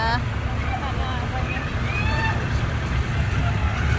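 A Kubota excavator runs on a test-driving ground with a steady low engine rumble and mechanical noise, while people talk loudly over it throughout.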